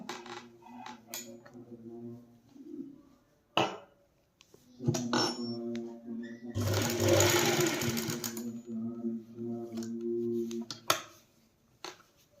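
An embroidery machine stitches a logo onto cloth with a steady mechanical hum, broken by louder clattering bursts of needle action in the middle and occasional sharp ticks.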